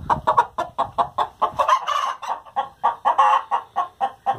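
A brooding hen sitting on eggs clucks in a quick, regular series of close, loud clucks, pausing briefly midway before resuming; no talking.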